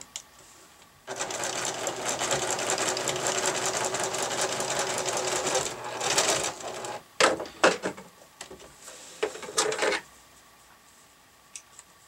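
Sewing machine hemming a towel, humming steadily for several seconds, then stopping and starting in short stitch bursts and clicks before falling quiet.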